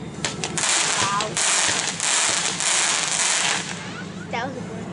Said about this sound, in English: That was a good firework